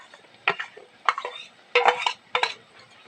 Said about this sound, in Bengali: এবার এই পেঁয়াজ ভাজার মধ্যে আমি বেগুন পোড়াটা দিয়ে দেবো